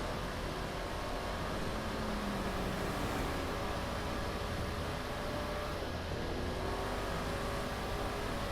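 Car engine in Grand Theft Auto V, a steady loud drone with rising revs throughout, alone without talk, during a scrap yard mission.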